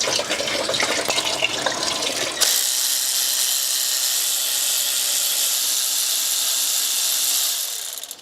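Coolant gushes out of a BMW N47/N57 diesel engine during water pump and thermostat work, a loud, steady pour with a heavier splashing start, then an even rushing stream that tapers at the end.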